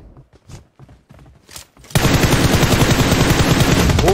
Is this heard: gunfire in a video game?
yes